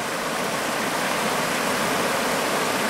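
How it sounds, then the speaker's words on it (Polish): Waterfall on the Łęg river, met during a kayak trip at very high water, roars as a dense, steady rush of falling water that fills the whole moment without a break. "wodospad"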